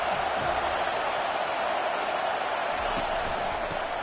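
A dense, steady roar of a large stadium crowd cheering loudly at a college football game, unbroken for several seconds with no distinct voices standing out.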